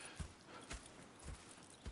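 Horse hooves clip-clop in Red Dead Redemption 2, a few soft, evenly spaced hoofbeats at moderate distance, faint and unaccompanied by speech.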